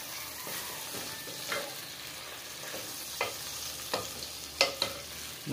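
Shrimp frying in garlic butter in a pan, a soft steady sizzle with occasional faint clicks and scrapes of stirring, with no voices.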